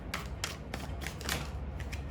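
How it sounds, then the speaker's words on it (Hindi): Tarot cards drawn one after another from a second deck, producing a quick series of soft papery slaps and flicks up close, at an uneven rhythm, with no talking. "अब हम दूसरे डेक से निकालेंगे कार्ड्स।"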